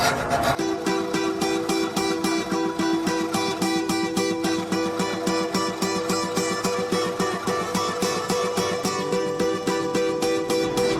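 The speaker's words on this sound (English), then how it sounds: "let's get out the hacksaw" A hacksaw cutting through a cast iron sink, fast regular back-and-forth rasping strokes, loud and close, with nothing else heard.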